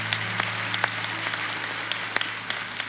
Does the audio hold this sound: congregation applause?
yes